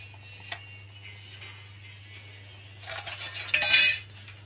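Pre-fried shrimp tipped into a pot of banana flower curry, giving a short burst of spoon clinks and clatter against the pot near the end, after several quiet seconds over a steady low hum.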